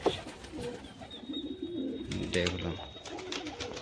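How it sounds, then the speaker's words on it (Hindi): Domestic Punjabi pigeons coo softly in their coop, low throaty calls repeating under a man's nearby speech. "ये कबूतर है भाई,"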